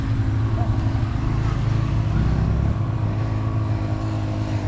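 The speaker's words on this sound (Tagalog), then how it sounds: "Hirap na hirap din ang motor." A motorcycle engine strains uphill in a loud, steady low drone that holds without pause for several seconds, close by and dense.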